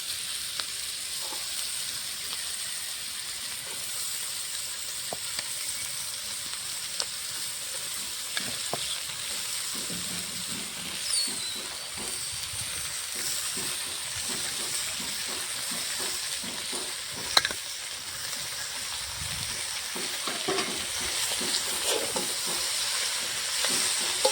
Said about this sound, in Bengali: আলু, মটরশুঁটি, গাজরটা ভাজা হয়ে গেছে। এখন বাঁধাকপিটা দিয়ে দেবো।